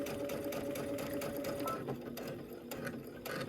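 Sewing machine stitching a seam on a cosmetic bag, a steady close whirring rhythm with rapid needle clatter that runs continuously, slowing slightly near the end.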